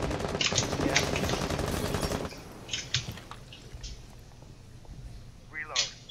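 Automatic gunfire in the Rainbow Six Siege Clubhouse map, a sustained loud burst shooting through walls for about two seconds, followed by scattered quieter shots and game noises.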